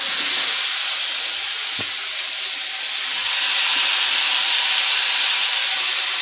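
Goruah fish pieces added to hot masala with potatoes, frying in a pan for a fish curry; a continuous close hissing sizzle runs throughout without speech, with a brief soft knock early on.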